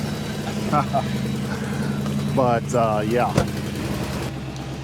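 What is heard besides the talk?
car engine idling with slight exhaust leak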